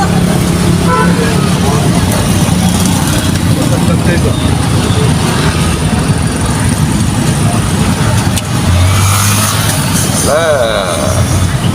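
Dense road traffic during a fiesta horse parade: a continuous loud rumble of engines and passing vehicles with crowd noise and people talking throughout.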